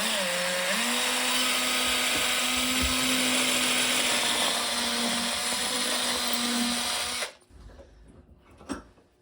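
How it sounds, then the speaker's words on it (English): A power drill bores a hole in an antler point with a loud, steady high whine for about seven seconds, then stops, leaving faint handling knocks close by. "I'm going to put a hole right there next to the first one"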